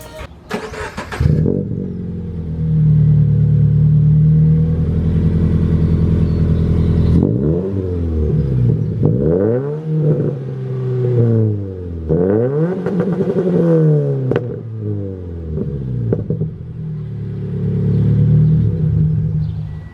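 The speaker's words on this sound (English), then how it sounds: "we're gonna start the car. We'll show you guys what it sounds like now with just the Remark axle back" A Subaru BRZ with a Remark axle-back exhaust starts up close by and settles into a loud, steady idle. It then revs hard several times, each sweep climbing and falling back, before easing to idle again.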